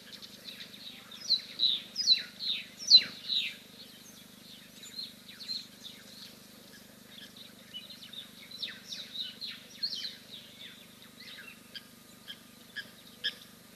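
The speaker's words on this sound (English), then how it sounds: "I have no idea what all those birds were that came in." Many birds chirp and call at a waterhole near Victoria Falls, a lively layered chorus of high twittering notes near and far over a faint low hum.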